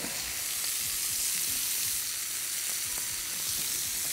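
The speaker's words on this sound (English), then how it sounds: "what we're gonna do is we're gonna baste the fish" Monkfish frying in butter with sage, rosemary or thyme in a pan, a dense continuous sizzle with crackling pops and soft stirring, close and steady with no talking.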